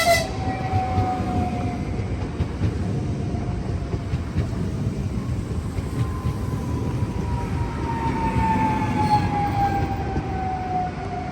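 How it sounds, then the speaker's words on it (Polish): A Polish Intercity passenger train rolls steadily past with a continuous low rumble and rattle of carriages, and a long, faint horn-like tone drifting in the background. "Jeżdża pociąg Intercity Morcinek ze stacji Lublin Główny i Kielce Główne do stacji Gliwice"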